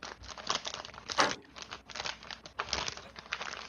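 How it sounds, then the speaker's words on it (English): A bag of chili cheese chips being opened, close crinkling and rustling plastic in repeated bursts with no voices. "I'm going to mute myself for a moment to open up my chili cheese chips"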